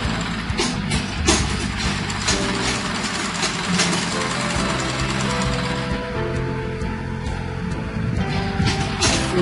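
A sewing machine stitching fabric for a basic skirt runs continuously with a dense, steady mechanical whir, close and fairly loud, easing slightly toward the end.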